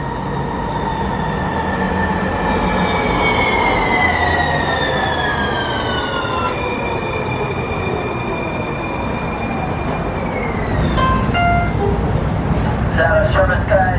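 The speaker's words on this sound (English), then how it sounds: "So this not-in-service train just pulled up onto the platform" An out-of-service train rolls into a station platform, steady rumble of wheels under long rising and sliding whining tones, then sharp squealing brake screeches near the end as it stops close by.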